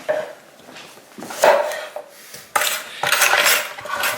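Knife slicing through a whole apple on a kitchen board, a few quick crisp cuts with clattering knocks of the blade against the board and dishes, fairly close and with no talk.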